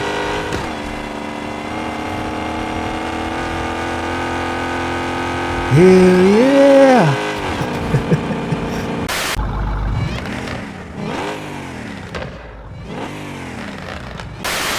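A semi-truck fitted with a Hellcat engine revs hard in the Car Parking Multiplayer 2 video game. A loud steady engine drone climbs into sharp rising revs around the middle, then choppy throttle blips follow, and a voice speaks briefly.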